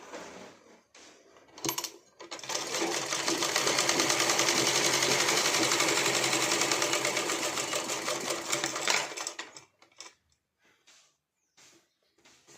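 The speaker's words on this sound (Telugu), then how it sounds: "ఈ ప్లేట్లు కుడుతున్నా. రెండు కుట్లు వేయాలి." A sewing machine stitches pleats on a blouse in one continuous whirring run of about seven seconds, with a few quiet clicks and handling taps before and after.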